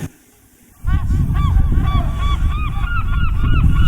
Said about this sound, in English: Shoebirds, go away, you dumb seagulls.